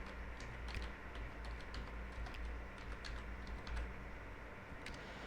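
Steady, fast typing on a computer keyboard, a continuous patter of light key clicks over a low room hum, with no voices.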